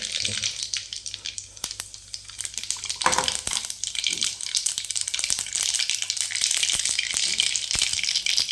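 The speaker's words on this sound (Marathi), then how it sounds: "जिरं मोहरी टाकून घेऊया" Cumin and mustard seeds sizzle and crackle in hot oil, a steady close frying hiss with scattered pops throughout, and no talking over it.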